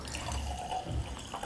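Glenlivet 21 year Scotch whisky being poured, a soft, quiet trickle of liquid with light drips, close and low in level.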